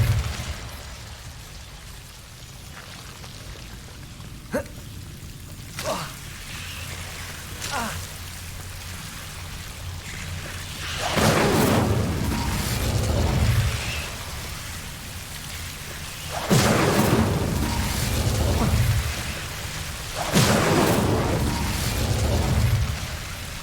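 A fire spell is cast in the video game Hogwarts Legacy: a whooshing burst of flame swells up over a steady rainy, rumbling ambience, and two more strong flaring bursts follow later.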